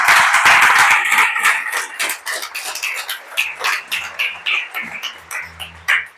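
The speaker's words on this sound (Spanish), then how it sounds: "Dale un aplauso a Dios." A church congregation applauds for God, a dense burst of clapping that swells loudly at first and then settles into rhythmic, spaced claps over a low musical tone.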